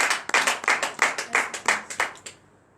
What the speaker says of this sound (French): Donnez de vive acclamation à Jésus.